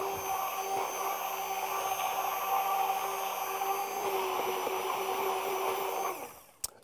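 A bamix hand blender whirs steadily while blending a frozen mango smoothie, a continuous motorized drone with a constant pitch that shuts off near the end, leaving a brief knock.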